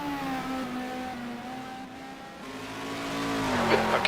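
Racing engine of a Porsche 550 in a video game set at a 2000 FIA GT 500 km race at Monza, a loud sustained tone that holds and then rises near the end as the car accelerates.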